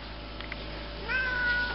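A small female cat meows close by, one drawn-out, rising cry over a quiet low hum, with no talking.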